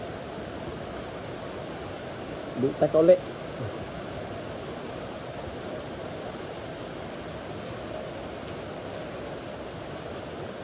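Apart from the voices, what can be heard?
heavy rain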